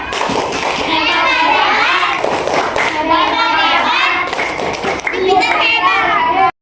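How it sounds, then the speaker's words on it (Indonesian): Fifth-grade schoolchildren in a classroom perform a rhythmic chant-and-clap routine together, bright young voices mixed with sharp patterned hand claps, close and lively throughout. "Tepuk hebat."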